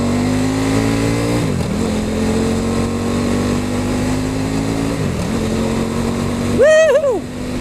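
A KTM RC8 motorcycle heard from the rider's position holds a loud, steady engine note that rises through the gears, with brief drops at each shift, while wind roars around it and a whooping voice breaks in at the end.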